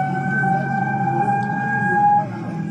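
A civil defense warning siren sounding in a residential area at risk of landslides gives a steady sustained tone with overtones over a rumbling low background, fading slightly near the end.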